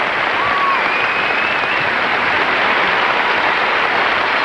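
Sustained crowd applause filling an arena at the Capitol Center after Torvill and Dean's ice dance at the 1985 World Professional Figure Skating Championships, steady and loud throughout with no talk.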